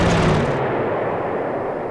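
An artillery bombardment in the Panzer Corps war game, a loud booming blast that decays into a rumbling tail over nearly two seconds.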